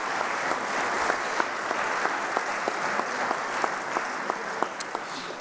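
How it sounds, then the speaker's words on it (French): Steady applause from a large crowd in a French assembly session, dense clapping filling the room with a few sharper claps standing out, no voices. "Je voudrais que là aussi nous l'applaudissions."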